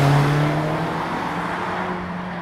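A 2024 Mazda MX-5 ND3 roadster under way, its steady engine drone heard from inside the car, fairly loud and easing slightly as it cruises.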